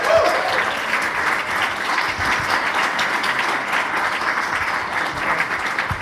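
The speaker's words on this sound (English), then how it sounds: "everybody keep clapping" Talk show audience at the Australian Ambassador's Residence clapping continuously, a dense, loud, steady wash of applause from a room full of people.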